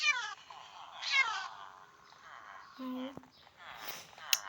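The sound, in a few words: kitten meowing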